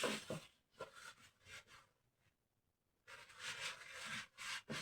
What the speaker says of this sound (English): So I'm just going to apply it like this and then just massage it into the skin.